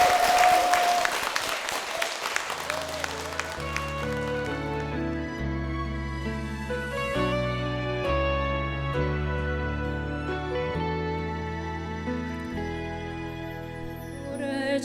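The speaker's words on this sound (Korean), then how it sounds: "그런 마음으로 축복의 박수 부탁드리겠습니다" Church audience applause offered as a blessing for a deaconess's family, a brief burst of clapping at the start that quickly fades as piano music takes over and carries on alone.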